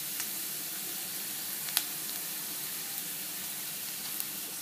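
Onion frying in a pan until light brown gives a steady, quiet sizzle with faint crackles and a few small pops, no voices over it.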